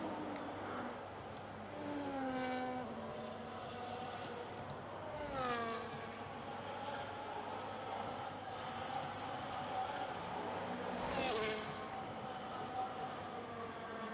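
F1 race car engines at Monza in the game F1 25, with several high-pitched whines rising and falling as cars pass and shift gears, fairly distant over a steady background roar.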